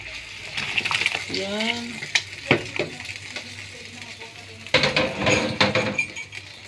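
Onion and tomato are dropped into a hot pan, setting off crackling sizzles with utensil clatter, then a louder burst of frying near the end. A voice speaks briefly early on.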